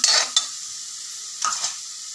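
Turmeric and other spices sauté with onion in a hot pan, a steady close sizzle with a few brief scraping strokes of a spoon stirring, one at the start and another after a short pause.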